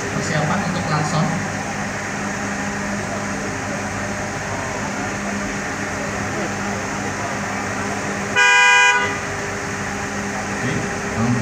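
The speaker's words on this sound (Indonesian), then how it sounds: "Robotik dia akan otomatis persiapan untuk klakson." Car horn sounded automatically by robotic vehicle testing equipment during a motor vehicle function inspection, one short loud honk amid steady machine hum and background talk.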